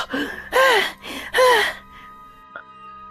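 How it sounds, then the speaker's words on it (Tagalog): Heavy, breathy panting up close: two loud gasping inhales with strained, voiced exhales, then quieter breathing trailing off. "Hingal na hingal ka."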